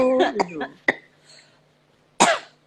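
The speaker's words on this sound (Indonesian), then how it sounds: "Batuk ya, kamu." Two sharp coughs break through a stretch of talking, one near the middle and a louder, rougher one toward the end, close to the listener.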